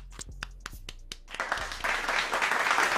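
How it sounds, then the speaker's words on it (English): Applause for a returning guest on a Dallas Cowboys football talk show: a few separate claps at first, then a steady, fairly close wash of clapping that swells and holds to the end. "Y'all give Picante a clap, man"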